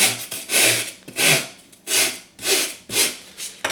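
A hand file rasping back and forth across material in steady, loud strokes, about six passes in a regular rhythm, close up.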